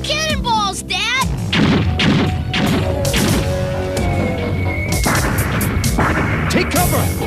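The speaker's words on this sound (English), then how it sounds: "Those are real cannonballs" Cannonballs fire in an animated cartoon, a rapid series of booming blasts, crashes and thuds layered over music, with a high warbling effect at the start and voices amid the barrage.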